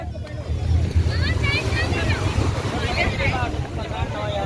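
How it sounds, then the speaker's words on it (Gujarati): Rumbling boat engine and wind buffeting the microphone, with sea water noise underneath and people talking over it, on a boat crossing to Bet Dwarka, Gujarat. "જો અત્યારે આ બોટ હવે જવાની છે"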